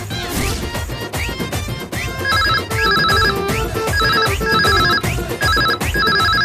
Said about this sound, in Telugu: ఫోన్ ఎవరో చూడు.